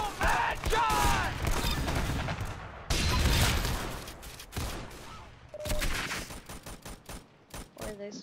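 Bursts of pepper gun fire in a shooting video game, a high-spread weapon, with rapid volleys of loud shots separated by short pauses, plus brief voice sounds between them.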